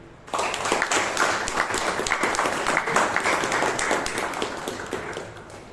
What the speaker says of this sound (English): Can we have a huge round of applause for Toastmaster Nitin?